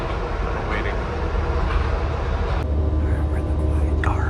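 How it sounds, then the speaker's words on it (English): Inside the quiet car of a passenger train, a steady low rumble and hiss of the moving carriage, with a voice speaking over it. "We're in the quiet car of the train."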